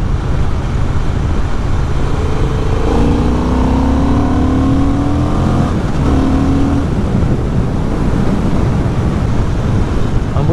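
A 2025 Honda Hornet 750 motorcycle gives a steady loud engine roar with wind noise, the pitch rising and falling as it revs up and shifts through gears.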